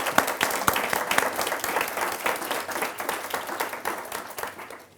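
An audience applauds to welcome author Sebastian Mallaby at a book talk, with steady, dense clapping that carries on for about five seconds and fades slightly toward the end.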